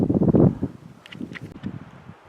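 Wind buffeting the microphone on a mountain summit, low gusty rumble strongest at the start, then easing into softer blustery noise with a few faint rustles.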